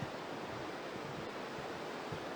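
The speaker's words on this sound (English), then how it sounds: "you're just listening to the river flow" A river rushing through a gorge on the Aareschlucht walk, heard as a steady, loud broadband roar of flowing water with no pauses and no voices.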